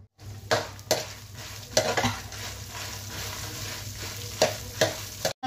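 Chillies and spices frying in a pan for ginger chutney with coriander seeds and cumin: a steady low sizzle with repeated spoon scrapes and clacks against the pan, close and without talk.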